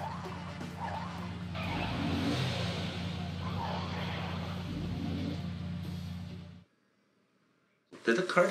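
Game traffic in a Sam & Max episode hums steadily in the background, with a vehicle whooshing past, then the sound cuts to silence before a short burst returns at the end.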